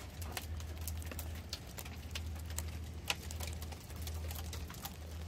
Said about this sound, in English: It's coming up to the end of the April, and we're getting hail.